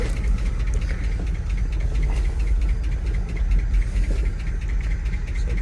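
A 1973 Dodge Ramp truck engine idles roughly, a loud, steady low chugging with an uneven knock running throughout, close up with no voices.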